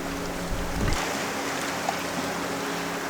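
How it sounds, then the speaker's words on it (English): Ocean waves roll in at the shore at Bunbeg or Crohy Head in Donegal, a steady broad wash with a fuller surge early on, heard alone. "Here comes the waves."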